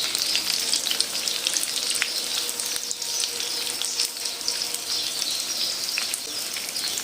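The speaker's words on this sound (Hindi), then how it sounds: "जब तक ये फूलेगी इसको फ्राई करेंगे।" Edible gum (gond) fries in a pan of hot fat over medium-low heat, a loud, steady crackling sizzle that holds without a break and has no talk over it.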